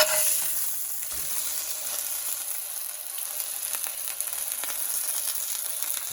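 A burger patty sizzles steadily on a Blackstone flat-top griddle with cast iron, a constant close hiss of frying fat that holds at an even level throughout.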